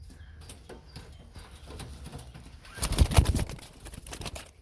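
Pigeons coo and shuffle nearby in a pigeon loft with soft, low murmurs, and a brief flurry of wing flapping swells in the middle before settling again.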